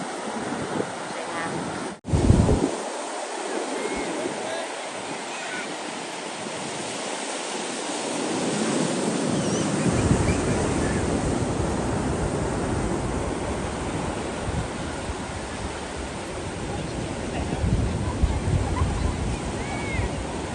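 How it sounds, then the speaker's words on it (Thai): Rough sea waves crash on a shore, a broad roaring surge with wind buffeting the microphone, building louder after a brief thump and continuing steadily. Voices are faint or barely present. "วันนี้ทะเลแรงมาก"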